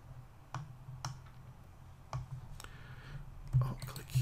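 Soft computer mouse clicks and keyboard shortcut presses, several isolated taps spaced about half a second to a second apart, then a quick cluster near the end, faint and close with light background hum.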